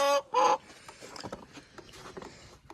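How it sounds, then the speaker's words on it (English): Chickens clucking in a coop after a snowstorm, two loud close squawks at the start followed by softer scattered clucks and rustling, with no speech. "There's 7 more chickens and 2 ducks."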